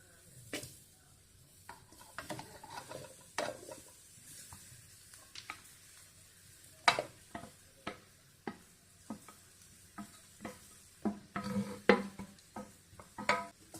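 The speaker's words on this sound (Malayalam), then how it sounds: "നമുക്കിതെല്ലാം കൂടി ഒന്ന് നന്നായിട്ട് ഇളക്കി കൂട്ടാം." Crushed young jackfruit is stirred into a fried ground coconut paste in a pan for thoran: a run of irregular scraping, clattering spoon strokes over a soft sizzle, close and fairly quiet.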